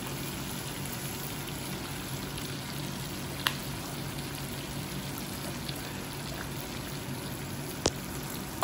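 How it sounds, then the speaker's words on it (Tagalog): Food frying in a pan in a home kitchen, a steady soft hiss and crackle of hot oil running throughout with a few faint clinks, quiet and continuous without talk. "Mabilis lang pala iprito to."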